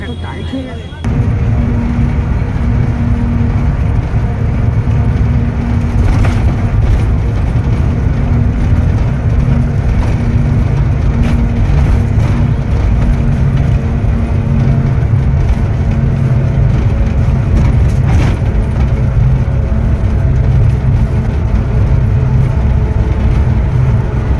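Steady engine rumble and road noise from inside a moving bus, heard throughout with people talking over it.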